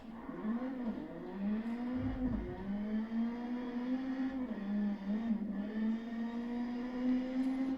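A rally car in the WRC 9 racing game drives with a steady, droning engine note that rises and dips as it shifts through gears, loud and continuous throughout with no talking.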